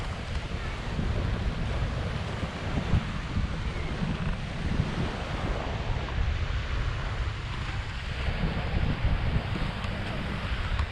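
Wind and surf roar steadily on Wasukri beach in Sai Buri, Thailand. The continuous rush of waves mixes with gusty wind buffeting the microphone throughout.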